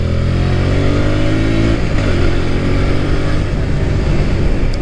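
Honda VTR 250 motorcycle riding through a roundabout, a loud close engine drone with steady wind rush, the pitch dipping as it eases off then holding even.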